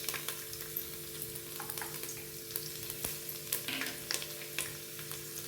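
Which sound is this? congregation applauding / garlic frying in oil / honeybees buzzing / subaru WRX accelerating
garlic frying in oil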